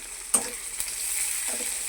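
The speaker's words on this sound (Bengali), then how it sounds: "তো এটাকে হালকা ভাজা ভাজা করে নিচ্ছি" Cumin, onion, crushed garlic and green chillies frying in hot oil in a home kitchen, a soft steady sizzle with a couple of brief stirring clatters, close and fairly quiet.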